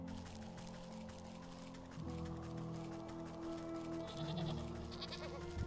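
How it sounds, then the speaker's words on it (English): Goats bleat in the video game Wytchwood, a few calls rising over steady game music and ambience near a mountain area with geysers, moderately clear but not loud. "There's goats!"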